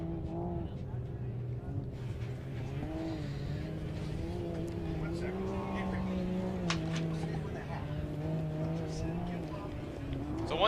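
Engine of the number 36 desert race vehicle at a desert challenge prologue, running steadily and pulling away after a belt change, a continuous loud motor drone with rising revs under a faint crowd murmur.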